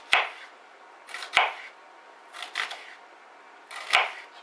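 A knife thinly slices an onion on a board in a few separate crisp cuts with quiet pauses between them.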